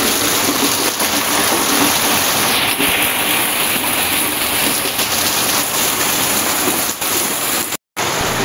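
Heavy rain pours down during a windy village storm, a loud, dense and continuous hiss that drowns out everything else.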